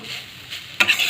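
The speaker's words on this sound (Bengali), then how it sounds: "ভালো করে একটু ভেজে নিতে হবে নাহলে গন্ধ যাবে" Semolina frying in ghee hisses steadily as it is stirred, and a sudden scrape of the spoon brings a brighter, louder sizzle near the end of the brief, close, talk-free moment.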